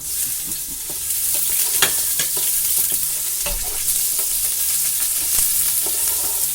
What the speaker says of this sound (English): So you add the ginger, the onion, just added the pork.